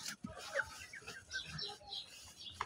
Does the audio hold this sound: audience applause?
no